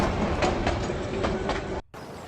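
A train rolls past in the Night of the Rabbit video game, giving a loud, continuous rumble with rhythmic clickety-clack wheel beats that cuts off abruptly near the end.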